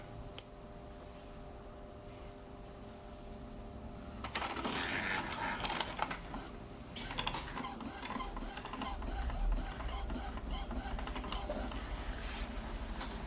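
Epson printer running a test print after a print head cleaning, with a clatter of mechanism and carriage movement that grows busier partway through, steady and close with no voices.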